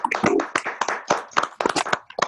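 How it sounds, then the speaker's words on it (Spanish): Scattered virtual applause from participants clapping over open microphones at the close of a medical grand rounds on Covid-associated multisystem inflammatory syndrome, a ragged run of close, uneven hand claps lasting a couple of seconds. "Les pedimos a todos que activen sus micrófonos y damos un gran aplauso virtual al equipo de reumatología."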